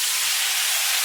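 Shrimp for garlic shrimp hitting a hot pan, giving a steady, loud, bright sizzle that holds evenly throughout with no other sounds.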